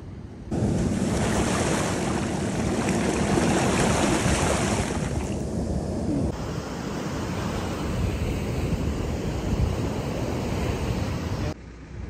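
Waves washing onto a beach, a loud continuous roar of surf with heavy wind buffeting the microphone throughout, no voices.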